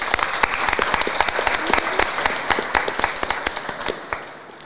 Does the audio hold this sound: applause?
yes